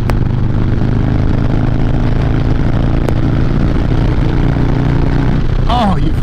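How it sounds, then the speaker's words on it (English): A Harley-Davidson bagger, either a Street Bob 114 Stage 2 or a Road Glide 130 Stage 4, running loud and close with a deep, steady low engine drone, a brief rising whine near the end. "This bike sounds absolutely insane though."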